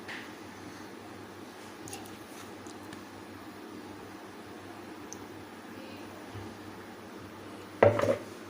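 A cake tin filled with chocolate cake batter is tapped down, a short cluster of dull knocks near the end that stands out above a faint, steady background hum.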